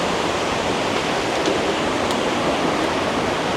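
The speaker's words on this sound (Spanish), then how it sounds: "Ustedes también quieren ver esta cascada." Waterfall at Saltos de Jima in the Dominican Republic, a steady broadband roar of falling water that holds an even level from start to finish, with no voices heard.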